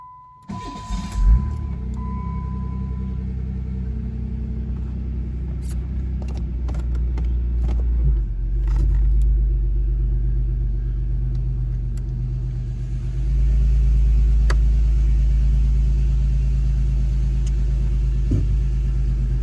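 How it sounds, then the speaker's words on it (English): A fleet vehicle's engine cold-starts with a short crank, then settles into a loud, steady idle rumble. The rumble continues alone, rising slightly partway through. "give you a kind of like a cold start like I did at the beginning of the video"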